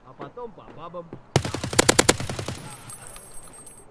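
Rapid automatic gunfire in the video game Escape from Tarkov erupts after a short stretch of voice, a loud burst of closely spaced shots followed by a fading echo and a faint lingering tone.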